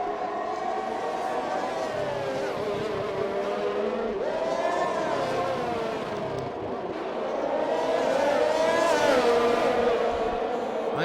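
Formula 1 race cars, a McLaren and a Red Bull, fighting for position in a Russian Grand Prix racing game, engines whining steadily with rising and falling pitch as they run close together at speed, loud and continuous.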